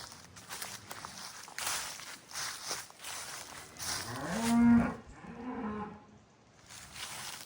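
Cows mooing close by in a field beside an old church, a drawn-out low moo rising to a loud peak amid rustling, shuffling hooves and outdoor ambience.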